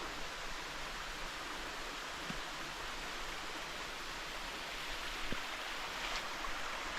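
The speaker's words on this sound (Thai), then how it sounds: "นู่นค่ะน้ำตก" A forest waterfall heard from a distance makes a faint, steady rushing hiss that never lets up, broken only by a couple of small nearby clicks.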